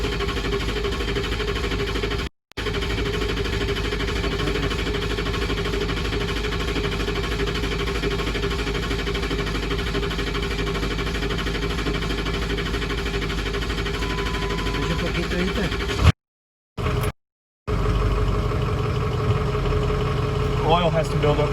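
A 2004 Ford F350 with the 6.0 diesel engine, after fuel injector replacement, runs with a loud, steady rumbling idle close by, broken by a few brief gaps near the end, with no speech.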